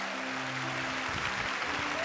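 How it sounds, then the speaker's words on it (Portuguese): A Baptist church congregation claps during an evening service, a brief burst of crowd applause with a sustained musical tone underneath. "Pode dar um aplauso ao Senhor."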